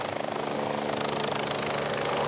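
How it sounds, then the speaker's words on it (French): A rescue helicopter arrives with a medical team at a winter sports rescue, its rotor chopping in a loud, steady rhythmic thrum close by, with no talking over it. "l'hélicoptère revient avec une équipe médicale"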